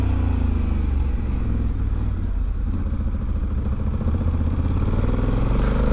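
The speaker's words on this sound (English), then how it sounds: "You can hear the engines revving." A 2020 Honda Africa Twin Adventure Sports DCT motorcycle engine being revved while riding, a loud, continuous close-up engine drone that rises and falls in pitch over several seconds.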